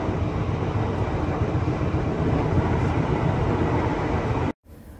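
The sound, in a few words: KRL commuter train running, heard from inside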